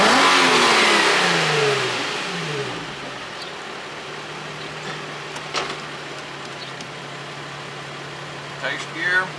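A G35 engine in a drift car revs loudly at the start, then settles to a steady lower drone as the revs fall away, with a few brief knocks and clatters near the end.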